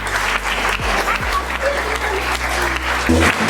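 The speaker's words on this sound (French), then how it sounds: "Oui, applaudissements." Audience applause at a French stage hypnosis comedy show, steady dense clapping filling the room throughout, with some voices and low rumble underneath.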